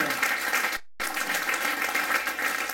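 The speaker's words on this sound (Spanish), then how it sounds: "Dele un aplauso al Señor." A church congregation applauds together during a Spanish-language evangelical service, a steady, dense wash of clapping with a brief dropout partway through.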